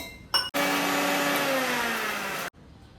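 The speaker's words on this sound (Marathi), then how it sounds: "थंड झालं की मग आपण मिक्सरमधून बारीक करून घेऊ" A kitchen mixer grinder blends roasted spice masala, a short tap followed by a loud, steady two-second whirring drone that cuts off abruptly into quiet.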